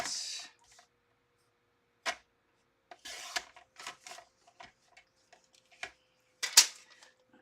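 Several short, crisp cuts through a piece of white cardstock while making a Halloween flip card, scattered across a quiet table with gaps between them, close and fairly sharp, with no talking.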